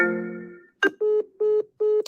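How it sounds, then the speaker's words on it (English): A phone rings with an incoming call: a short electronic tone, then three evenly spaced beeping ring pulses, clear and close with no talking. "I somehow got a phone call."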